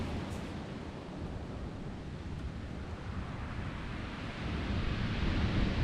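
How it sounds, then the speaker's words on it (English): Waves roll onto the shingle of Chesil Beach in Dorset in a continuous broadband wash of surf, mixed with wind rumble. The roar builds louder toward the end. "That was the waves then."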